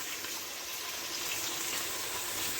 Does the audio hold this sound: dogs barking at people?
no